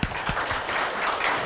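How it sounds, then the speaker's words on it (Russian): An audience applauds a group of developers, some new and some experienced, who have just finished an intensive course; steady, dense clapping fills the room throughout without a pause. "давайте им похлопаем"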